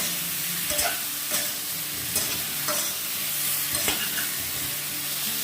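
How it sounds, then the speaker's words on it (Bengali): Young jackfruit curry sautéing in a pan, a steady close sizzle broken by regular scraping stir strokes about every second, with no talk. "এবার এটাকে ভালো করে কষাতে শুরু করব।"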